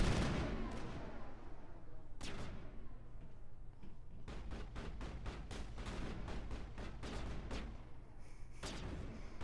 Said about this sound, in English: It's a rare example of a grenade being useful.